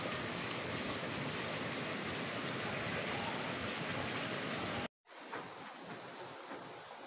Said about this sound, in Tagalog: Humina na po yung agos ng tubig.